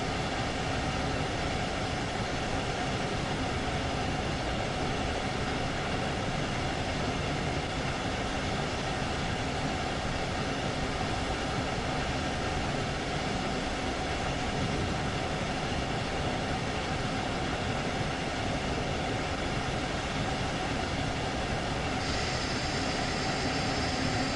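A steady, continuous rumble of a train rolling along in Train Sim World 2 on the Hamburg–Lübeck line, with constant rail noise and no pauses or speech.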